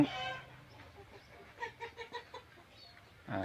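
Free-range chickens cluck outdoors after rain in a short burst of several quick calls mid-clip, with softer fowl sounds before and after; no one speaks.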